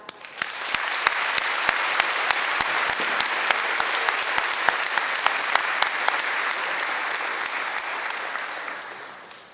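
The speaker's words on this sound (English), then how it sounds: "Please join me in giving a round of applause to our students from all classes." An audience at a school convocation claps steadily and warmly for several seconds, with a few louder individual claps standing out, before the applause tapers off.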